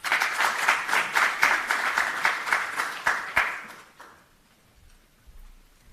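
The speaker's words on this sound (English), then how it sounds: "So please give George Barrett a wonderful round of applause" Applause for George Barrett at a British Council event on innovation for African universities: a lively patter of many hands, close and steady with sharp individual claps, fading out after about four seconds into quiet room tone.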